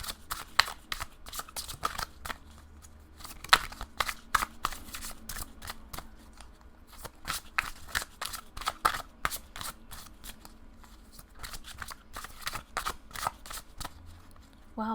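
Tarot cards are shuffled rapidly and repeatedly up close, a dense run of crisp riffling snaps and flutters with brief pauses.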